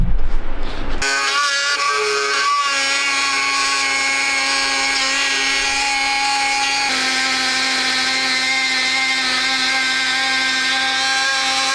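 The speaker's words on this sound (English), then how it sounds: "But I do have a Dremel, and I think in order to make this a little easier to cut, I'm going to get that out and slice down the middle." After a brief clatter, a Dremel rotary tool spins up to a loud, high, steady whine, shifting pitch slightly as it slices down the middle of a plastic tube in a garage, with no talk.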